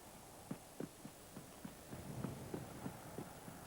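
A horse gallops, its hooves striking in a quick, fairly even clip-clop rhythm of soft, muffled beats, faint and distant over a steady background hum.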